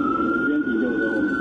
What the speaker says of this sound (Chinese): 救护车火爆赶到现场